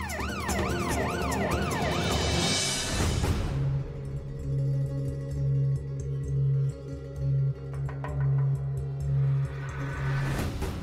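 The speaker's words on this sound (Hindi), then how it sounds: "पुलिस की सायरन की आवाज है और अपने ही घर के बाहर से आ रही है" A police siren wails right outside a house, a loud rising and falling tone at first, then a pulsing steady tone that cuts in and out, with festive Diwali firecracker noise around it.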